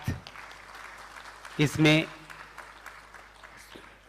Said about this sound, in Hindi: आप जोरदार तालियों के साथ